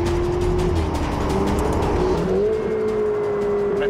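A turbocharged Ferrari 488 GTB engine accelerates with a loud, sustained rising drone and steady tonal whine, the pitch climbing continuously up close.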